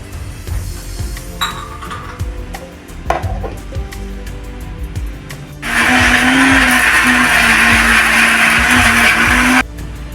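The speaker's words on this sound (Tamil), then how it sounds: "அரைப்படுறதுக்கு 1/2 டம்ளர் தண்ணி ஊற்றி அரைச்சி எடுத்துட்டு வந்துடலாம்." A kitchen mixer grinder whirs loudly for about four seconds as it blends coconut and tamarind with half a tumbler of water, preceded by clatter as the jar is set up.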